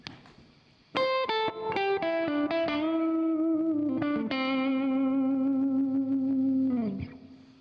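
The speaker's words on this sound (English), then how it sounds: "Here's what a reverb effect sounds like." A sustained electric guitar chord through a reverb effect rings out with a lush, washy tail, several strums blending into a long shimmering decay before cutting off.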